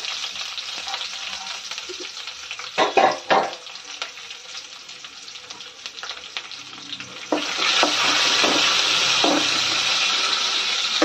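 Sliced onions fry in a pan, a steady sizzle broken by a few scraping stirs and knocks, with the hiss growing louder and denser in the last few seconds.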